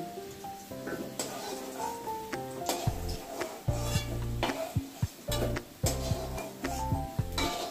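Fried potatoes being lifted out of a hot pan of oil for a Bengali koi fish curry, with steady sizzling broken by repeated metal spatula scrapes and clinks against the pan.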